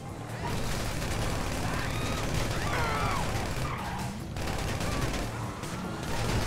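SMG bursts in Grand Theft Auto V, dense rapid gunfire with crashes and game noise filling the whole stretch.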